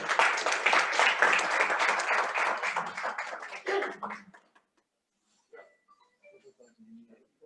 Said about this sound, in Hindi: आपकी तालियों की गड़गड़ाहट भी लगातार चलती रहनी चाहिए